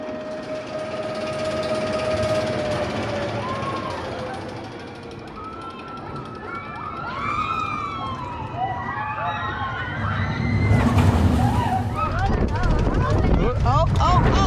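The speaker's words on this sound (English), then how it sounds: "So next up, we're gonna hit up the spinning coaster." A spinning roller coaster at Le Pal theme park rumbles and roars along its track up close, with the train's noise swelling louder near the end while riders shout and scream over it.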